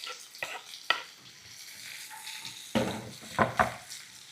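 Green chillies and finely chopped onion drop into hot oil with cumin for chole masala, a soft sizzle broken by a few sharp clinks and scrapes of a spoon against the pan.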